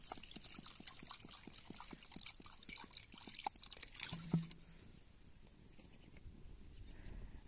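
Water splashes and trickles rhythmically over cut fish pieces in a pot as they are rinsed for a Marathi fish curry. Repeated splashing gives way to quieter dripping, with a soft knock partway through.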